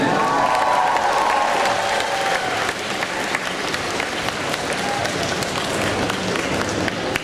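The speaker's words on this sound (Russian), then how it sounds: "Еще аплодисменты!" A large audience at a cosplay show claps and applauds in a dense, steady roar that lasts the whole stretch, with some cheering mixed in.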